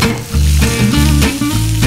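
Cumin seeds, green chili and onion sizzling in hot oil for an Indian tadka, a loud, steady frying hiss that holds for about two seconds.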